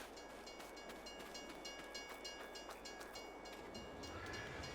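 A train in a video game rolls along with steady rhythmic clicking and a continuous rumbling hiss, medium loud throughout with no voices.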